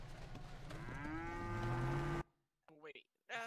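Cows mooing in the video game GTA: two long, loud, drawn-out moos overlap close by, with rising tonal pitch, then cut to near silence broken by a couple of brief faint calls.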